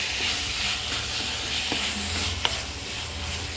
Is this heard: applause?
no